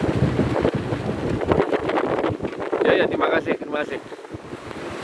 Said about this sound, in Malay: Bunyi angin